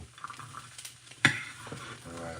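Rice being stirred in a pot, a soft scraping and sizzling texture with one sharp clatter partway through, then quieter stirring continuing up close.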